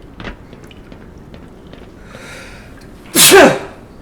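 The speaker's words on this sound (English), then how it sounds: "had to sneeze." A single sharp human sneeze near the end, loud and close, preceded by a faint quick breath and quiet background murmur.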